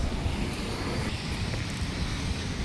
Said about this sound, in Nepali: बोट बिरुवाहरूमा हावा लागेको छ, चिसो चिसो मौसम।